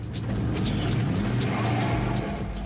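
A pickup truck accelerates hard on a paved road, its engine roaring steadily under constant road and wind noise, fairly close and with no talking.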